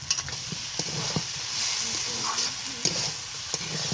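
Water spinach, potato and eggplant stir-frying together in a pan, a steady close sizzle with light scraping stirs and small clicks of a utensil throughout, no voices.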